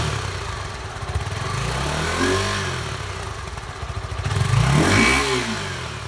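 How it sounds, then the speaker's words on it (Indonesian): A 2023–2024 Suzuki V-Strom SX 250 adventure motorcycle revs its 250cc engine through the exhaust, rising twice from a mid-pitched idle into sharp swelling revs, close and loud. "Ini untuk suara mesinnya ya. Ini untuk knalpot."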